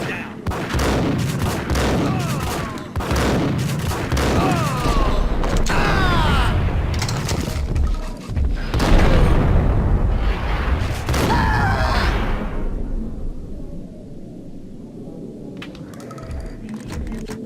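Gunfire in the video game Max Payne, with dense, loud, close volleys of shots, clanking and booming impacts over about twelve seconds before they fade into quieter scattered sounds.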